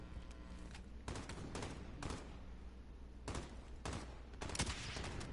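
Game gunfire from Call of Duty: Modern Warfare, a string of sharp shots spaced a second or so apart, some close and some farther off, heard fairly quietly against a steady background.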